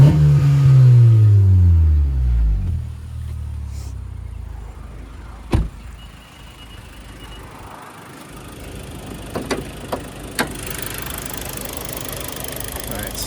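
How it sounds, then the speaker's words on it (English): A 2015 Honda Civic Si coupe with an aftermarket exhaust gives a loud rev that sweeps down and fades into a lower idle, followed by quieter engine murmur and a few sharp clicks. "Let me show you the exhaust."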